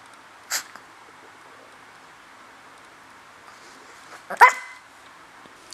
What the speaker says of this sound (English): I stood up because Chloe was barking so much when I sat down